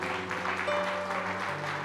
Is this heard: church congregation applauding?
yes